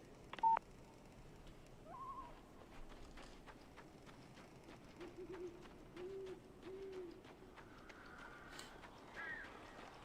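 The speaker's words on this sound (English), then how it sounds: "These birds are weird." Birds coo softly in the Alan Wake video game over a faint hollow background, with a short tone-like beep early on and scattered clicks, no talk.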